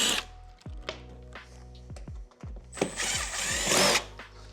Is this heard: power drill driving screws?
yes